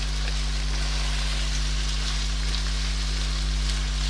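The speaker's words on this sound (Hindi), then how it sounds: "ये तकरीबन 5 मिनट मैंने ये लहसुन अदरक के साथ इससे पहले मैंने फ्राई कर लिया है।" Chicken fries with garlic ginger paste for a shahi chicken korma, a loud, continuous close hiss of sizzling oil over a steady low hum, with no talking.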